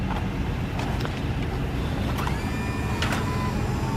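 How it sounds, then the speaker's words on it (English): Wheelchair lift on a 2010 Ford Econoline high top conversion van with a 2019 VMI lift, a steady mechanical whir and motor drone with faint rising tones and occasional clunks, heard outdoors against wind noise. "I'm gonna put up the wheelchair lift so you can see how this thing operates."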